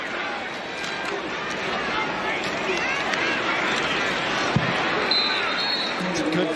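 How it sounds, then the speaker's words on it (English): A stadium crowd at an NFL preseason game between the Eagles and Patriots roars in a broad, continuous wash of cheering and chatter, with a commentator talking over it. "the crowd is excited about Drake May time right here"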